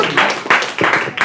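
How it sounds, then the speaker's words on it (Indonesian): A classroom of children claps together in loud, rhythmic bursts, about four group claps in quick succession, close and lively with a teacher's voice faintly mixed in. "Kita tepuk tangan."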